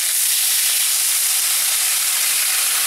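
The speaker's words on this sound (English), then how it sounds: "now we're going to deglaze the pan again" A hot pan hisses loudly and steadily as it is deglazed with wine for chicken in wine, a continuous close bright sizzle with no pauses.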